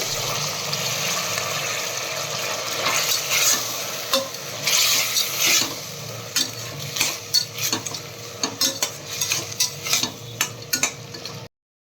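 Tomatoes frying in a pan for avarekalu bath are stirred with a utensil: a low sizzle under repeated scraping and clanking strokes that grow more frequent and distinct toward the end, close up with no speech.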